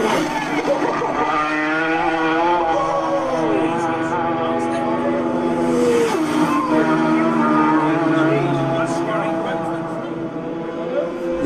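Isle of Man TT racing motorcycle engines scream past, their pitch climbing and falling through hard revs, while people talk and react loudly over the engine noise.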